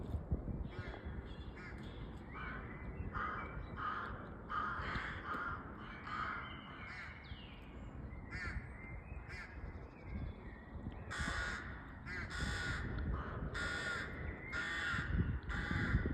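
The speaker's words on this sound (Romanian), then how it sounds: "două păsări care se ceartă." Two crows quarrel near a nest, loud harsh caws repeating in bursts and overlapping one another, close by over a steady rustling background, with no talking.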